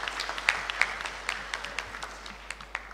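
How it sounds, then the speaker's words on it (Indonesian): Graduates applauded at a graduation ceremony by a large audience, a sustained wash of many hands clapping with a few sharper individual claps standing out, heard from some distance. "Tepuk tangan untuk wisudawan dan wisudawati."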